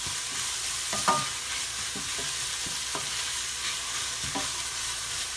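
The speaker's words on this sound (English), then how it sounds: "So I'm going to stir this a little bit, and I still have it on high." Seasoned vegetables sizzle steadily in a pan on high heat while a utensil stirs them in several soft scraping strokes, close and continuous, with no talking.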